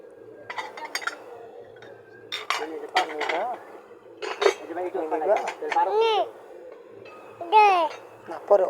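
Dinner set plates being handled and stacked, with repeated ceramic clinks and chinks close by, interspersed with people talking.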